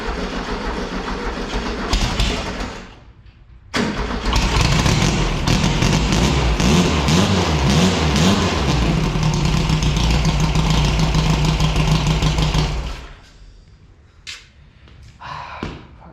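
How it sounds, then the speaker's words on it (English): An old engine cranks briefly, pauses, then catches and runs loudly and steadily for about nine seconds before cutting off, with a few faint knocks afterward. "let's see if she fires up and idles"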